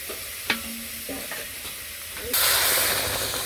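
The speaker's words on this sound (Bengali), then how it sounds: "লাউ গুনে একটু হালকা একটু হলুদ দিয়ে আর তেল দিয়ে লবণ দিয়ে ভেজে নিলাম" Slices of bottle gourd frying in hot oil with turmeric and salt, a soft sizzle that suddenly swells into a loud, bright, continuous hiss partway through, with a few utensil clinks early on.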